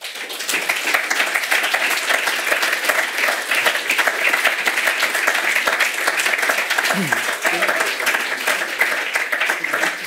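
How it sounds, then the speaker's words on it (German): An audience applauds at the close of a German-language lecture on sustainability, a dense, steady wash of many hands clapping that holds at even loudness for the full stretch, with a brief throat-clearing or voice murmur faintly beneath. "Applaus"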